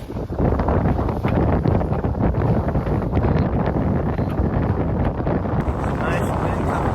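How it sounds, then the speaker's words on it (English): Strong wind blows at sea aboard a 42-foot sailboat, making a steady, loud roar of buffeting across the microphone that never lets up. "Nice wind coming from the west."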